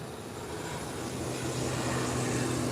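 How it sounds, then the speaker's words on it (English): An ATR turboprop taxis down the runway ahead of takeoff, a distant broadband engine roar that slowly grows louder, heard alone. "there goes the ATR, taxiing down the runway for takeoff"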